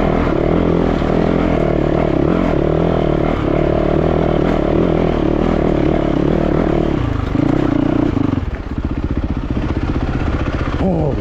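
Yamaha YZ450FX dirt bike ridden through rough bush and over rocky technical ground, a loud continuous engine drone with clattering and scraping throughout, the pitch shifting near the end as the rider works the throttle.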